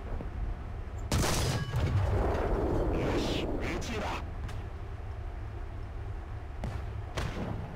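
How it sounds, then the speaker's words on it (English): Tank cannon and machine-gun fire in War Thunder, a loud burst of rapid shots and booming blasts followed by scattered later reports, with someone talking over the battle. "Oh, they're shooting at the dead guy."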